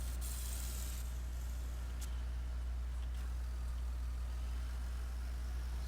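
Steady low idling drone of a tractor engine in Farming Simulator 17, running continuously and evenly with a couple of faint clicks over the top, no talk.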